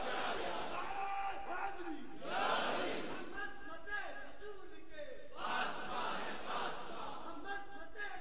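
At a religious conference, a large crowd roars a slogan back in unison, loud sustained chanting that rises and falls in repeated waves.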